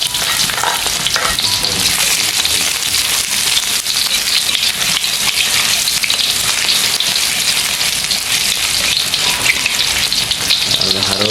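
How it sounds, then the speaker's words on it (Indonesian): Shallots and garlic sautéing in hot oil in a pan for an Indonesian home-cooked dish, a loud, close, continuous crackling sizzle with occasional stirring and no talking. "Nah, sekarang kita mau numis dulu sawinya."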